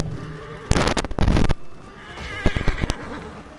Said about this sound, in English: And there's a bunch of horses that are on fire.